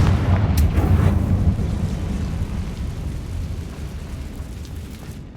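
A Confringo fire spell blasts spider webs apart in Hogwarts Legacy: one sharp, loud burst at the start that rolls into a long, rumbling, crackling decay, with no other sound on top.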